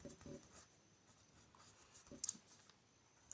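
Pen strokes on paper while a math solution is written out in a class 8 lesson, faint scratchy marks in short irregular bursts with quiet gaps, close and soft.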